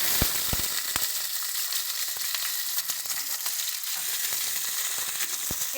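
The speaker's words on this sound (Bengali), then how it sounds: "এবার এর মধ্যে আমরা সিমগুলো দিয়ে দিচ্ছি" Flat beans frying in hot oil in a pan give a steady, close sizzle and crackle with scattered sharp pops, with no one talking.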